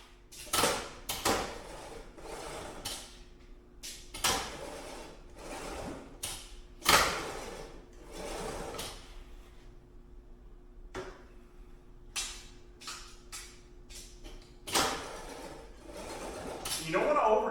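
Fuel tubing for a Factory 5 Type 65 Coupe is fed through a roller tool in irregular mechanical clicks and rattling bursts separated by quieter gaps, close up, with faint talk in places.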